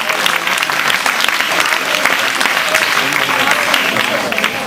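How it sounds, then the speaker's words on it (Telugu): Sustained, dense clapping from a crowd at a school prize function at a government high school in Ulavapadu, loud and steady throughout without a break. "చప్పట్లు కొట్టాలి."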